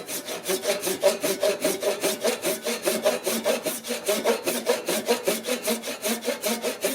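A handsaw cuts through plastic in quick, regular back-and-forth strokes, about two per second, each a rasping scrape, close and clear with no talking.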